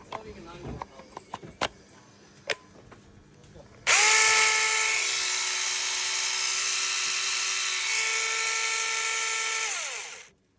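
A VILMAS cordless battery pruning shear motor starts after a few clicks and whirs steadily at high pitch for several seconds, then winds down; brief handling noises come before it.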